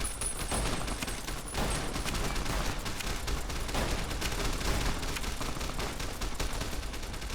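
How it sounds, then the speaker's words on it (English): Sustained gunfire in the video game Fallout New Vegas, a dense continuous barrage of rapid shots and bursts filling the whole stretch, loud and close with no pauses. "I don't know why the NCR opened fire"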